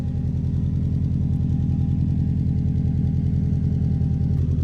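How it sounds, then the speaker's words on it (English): A Subaru WRX with a Miltech exhaust system runs on a cold start, heard from behind as a steady, throbbing low exhaust burble that holds an even pitch throughout. "If I rev it now, this is only a cold start"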